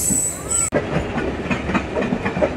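A MEMU train rolls near Basin Bridge Junction, its wheels clattering in a steady rhythm with a brief high whistle-like tone early on, heard from aboard a moving train.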